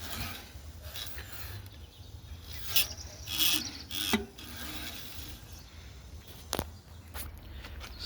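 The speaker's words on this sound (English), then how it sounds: "So now I've brushed the tubes" Stiff brushing and rasping scrapes inside the boiler tubes of the Mazeppa steam locomotive, coming in several short bursts over a quiet background, with one sharp knock near the end.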